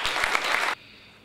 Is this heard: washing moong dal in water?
no